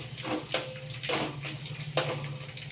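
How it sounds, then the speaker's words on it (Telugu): Cooking oil poured into a pan in a home kitchen while preparing a dish with green chillies and curry leaves, giving a steady, soft liquid pour with faint clinks over a low background hum. "ఇలా నూనె పోసాను."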